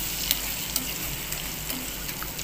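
Turmeric and asafoetida sautéing in a pan, a steady soft sizzle with a few faint clicks of stirring, no voices.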